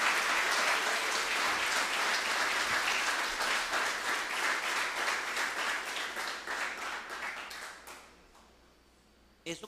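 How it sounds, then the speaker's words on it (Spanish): A church congregation claps together in sustained applause that slowly thins and fades toward the end, leaving near silence with a brief stir at the close. "Por eso yo creo que Él se merece otro aplauso"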